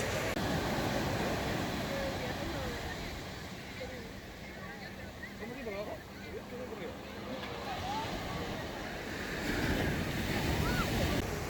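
Ocean surf washing onto a beach in Peru, a continuous rushing roar that rises and falls, with wind buffeting the microphone and voices faintly audible beneath.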